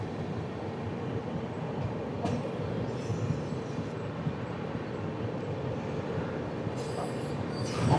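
A train rolls toward the listener on the opposite track, heard from inside a 2A coach of an express train between Wadi and Daund. A steady, faint rail rumble with a few brief higher squeals near the end, and no voices.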